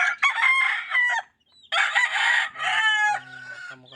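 A Cardinal Club Kelso rooster crows loudly and close, two long strained calls separated by a brief pause, with no talk.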